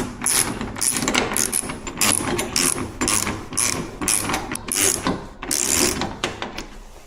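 A hand ratchet clicks in quick rhythmic bursts while tightening the hood latch on a C8 Corvette fitted with a ZR1-inspired hood, loud and close with brief pauses between strokes.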